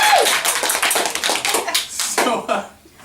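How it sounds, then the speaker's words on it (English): A small comedy show audience claps in an uneven burst of close, distinct hand claps with some vocal noise mixed in, then fades to near silence at the end. "Everybody clap extra loud for Marcy."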